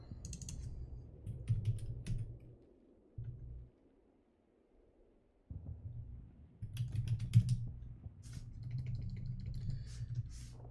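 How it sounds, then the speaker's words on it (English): Computer keyboard typing in bursts of rapid clicks, pausing briefly midway and then resuming, close to the microphone with no talking. "my typing skills are so bad right now"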